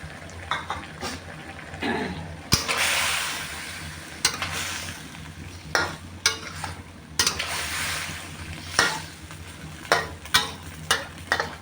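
Vegetables stir-fried with catfish in a pan for a spicy Thai pad cha dish, giving a steady sizzle broken by repeated sharp scrapes and clinks of a utensil against the pan, close and fairly loud, with no talk.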